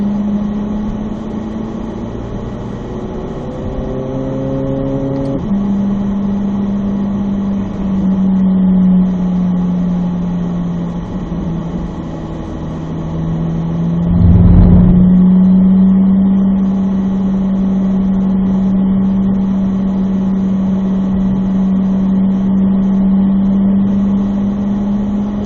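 A car rolls slowly around a race track on a gentle cool-down lap, its engine a steady, moderate drone that holds even throughout, with one brief louder swell partway through and no talking.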